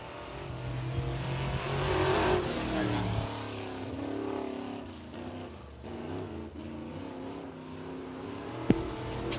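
An open wheel modified race car runs at 411 Motor Speedway, its engine roaring loud and rising, then fading to a steady drone as it moves away, with a sharp knock near the end.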